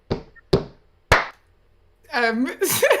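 Three sharp hand claps, evenly spaced and close, followed by a person speaking.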